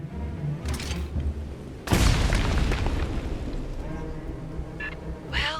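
Demolition charge detonating in the Aliens: Fireteam Elite video game, one loud close boom followed by a long rumbling, crackling tail that fades over several seconds, amid faint game sounds.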